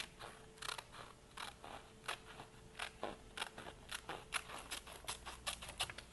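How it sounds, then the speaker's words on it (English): Small scissors cut through paper in a quiet series of crisp snips, around a dozen irregular clicks close by over a soft background hiss, with no talking. "I'm going to use the smaller scissors."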